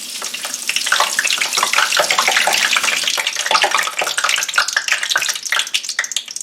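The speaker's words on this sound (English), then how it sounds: "We test by sprinkling a little bit of water into the grease and we see if it pops." Water sprinkled into hot frying-pan grease, heated for frying pork chops, sets off a loud, dense crackle of spitting and popping that runs continuously up close.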